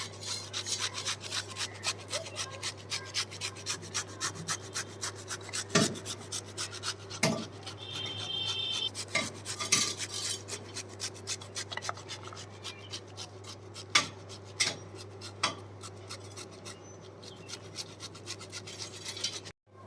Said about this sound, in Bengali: এই গ্রেট দিয়ে আমি গ্রেট করে নেব ফুলকপিটাকে খুব ভালোভাবে।